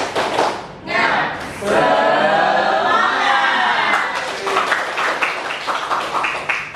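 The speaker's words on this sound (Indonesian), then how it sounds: "Tepuk semangat." A school class does a rhythmic spirit clap in a quick pattern, with children's voices chanting and shouting along in a lively, echoing classroom.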